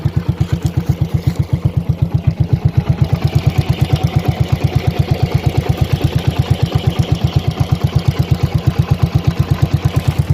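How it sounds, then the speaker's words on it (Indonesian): A Honda CB100 K2 motorcycle engine idles steadily close by, its low, even chugging pulses repeating without change. "Suara mesin."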